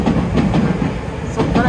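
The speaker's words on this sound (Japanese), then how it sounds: "すごい電車の音がすごいうるさくて" A train rumbles past on an elevated railway above a city street, loud and close, with rhythmic clacking bursts of the wheels over a heavy roar.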